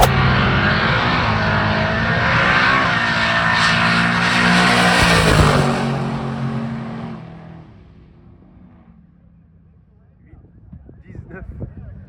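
Tom Bailey's race car roars past at about 170 mph at Sick Week drag racing, starting loud and close, then fading into the distance, with a faint voice afterward.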